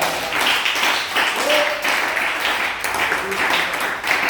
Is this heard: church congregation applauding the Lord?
yes